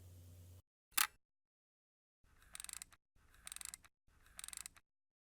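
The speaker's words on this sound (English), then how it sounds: "Now wind on the film and depress the shutter twice" An Olympus Trip 35 film camera clicks once sharply, then its film advance is wound in three separate ratcheting bursts, each a dry mechanical rasp about half a second long with silence between, close and quiet.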